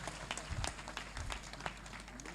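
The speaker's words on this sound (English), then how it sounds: "Let's give a very big hand clap to Frank Gashumba." An audience claps for Frank Gashumba at a career readiness and employability program launch, a steady, fairly distant patter of many hands filling the room, with a few faint voices mixed in.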